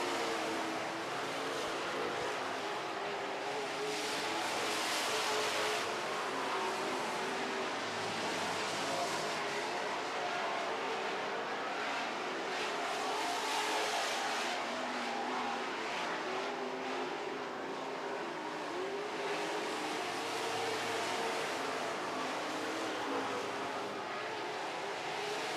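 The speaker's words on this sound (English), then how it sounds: "Now Gio in the yellow 25 gets alongside in turn 4" Super trucks race on an oval racetrack, their engines roaring continuously and loudly for the whole stretch, with swells as the trucks pass and accelerate through the turns.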